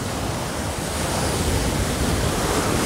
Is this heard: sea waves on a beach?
yes